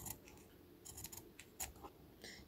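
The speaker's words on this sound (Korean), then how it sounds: "싹둑싹둑 잘 잘라주세요." Scissors snip away excess cloth in handmade miniature bookbinding, a handful of quiet, crisp, close cuts in quick irregular succession, with no voices.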